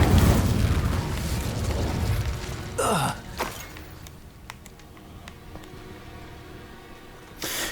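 Confringo explosion spell cast in Hogwarts Legacy, with loud rumbling blasts up front, then a sweeping whoosh and several sharp cracks against a steady game-sound bed.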